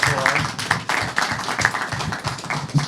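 An audience at a launch event breaks into applause: scattered, uneven hand claps at moderate loudness, sparse rather than a dense roar.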